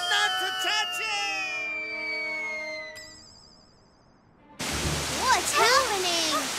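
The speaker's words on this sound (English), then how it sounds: "The water exploded from underground!" Cartoon water gushing up from underground: after a stretch of tonal cartoon sounds and a quiet pause, a sudden loud broadband rush erupts and continues, with animated voices calling out over it.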